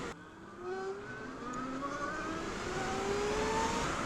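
A Zero DSR electric motorcycle accelerating hard in sport mode gives a rising electric whine that climbs steadily in pitch over a few seconds, with wind and road rush building underneath and no engine beat.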